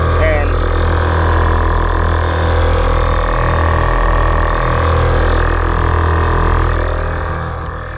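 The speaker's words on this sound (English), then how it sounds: "that noise is basically the compressors refilling the tank with air so that I can air up" Air ride suspension compressors on a bagged car refilling the air tank: a steady, loud mechanical hum and buzz with a pulsing rhythm, heard close up and continuous, fading slightly at the end.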